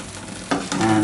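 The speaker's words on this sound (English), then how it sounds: "Turn that down to 3 and let that have a sizzle." Giant puffball and oyster mushroom pieces fry in a pan, a soft steady sizzle broken by two louder bursts of hissing as the food is stirred or shifted.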